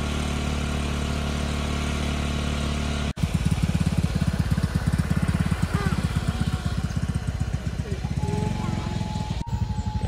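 A small motorcycle carrying a passenger strains uphill on a rural road toward Alahan Panjang, first droning steadily, then chugging in a rough, pulsing labour after a sharp break; voices are heard over the engine.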